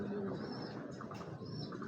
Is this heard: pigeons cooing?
yes